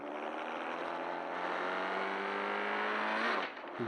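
A racing car engine in the video game Drive Zone drones loudly and steadily, its pitch climbing slowly, then cuts off abruptly near the end.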